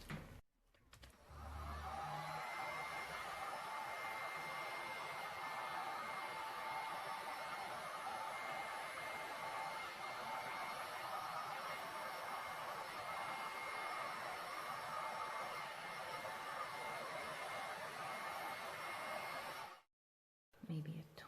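Continuous airy roar of a heat gun blowing across a layer of ocean-style poured resin art, steady and close, cutting off abruptly just before the end.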